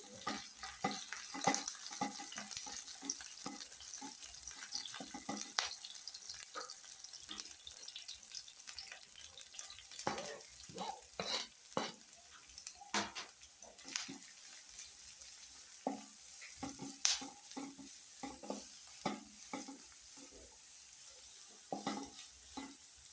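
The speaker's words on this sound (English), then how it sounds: "So let's fry our cabbage." Cabbage sizzles softly in a pan under steady stirring, with irregular scraping and clicking spatula strokes over a low hiss for more than twenty seconds, fairly faint throughout.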